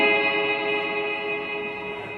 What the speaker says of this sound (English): And then the reverb pedal, which I have it set different. So this is a reverb.